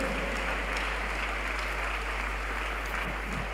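A church congregation applauding and cheering to acclaim the Lord, a continuous broad roar of clapping and crowd noise that holds steady and fairly faint for several seconds over a low hum.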